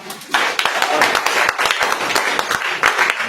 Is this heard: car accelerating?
no